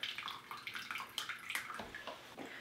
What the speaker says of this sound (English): I'm gonna pour off as much of the excess water